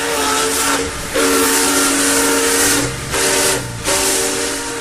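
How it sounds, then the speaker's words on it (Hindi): A steam locomotive's whistle sounds loud and close in several long blasts over continuous steam hissing, with brief dips between blasts and no voices. "रेलगाड़ियां और बहुत सी दूसरी मशीनों में भाप यानी स्टीम इंजन का इस्तेमाल किया जाता था"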